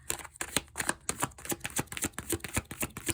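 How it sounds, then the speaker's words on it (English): A deck of tarot cards is shuffled by hand close up, giving a quick series of crisp papery riffles and slaps in an uneven rhythm, with no voices. "So I'm only going to give them a little shuffle here."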